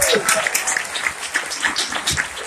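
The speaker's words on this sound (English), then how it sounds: "round of applause" Audience applause at a stage event, a steady wash of clapping from many hands with voices talking over and among it.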